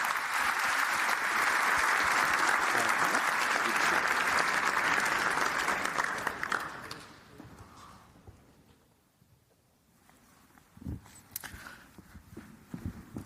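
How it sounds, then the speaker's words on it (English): An audience applauds panelists at a NATO Engages conference in London, the clapping loud and sustained for about six seconds before fading to quiet, with a few scattered claps and light movement afterward. "I'd like to round of applause to the panelists"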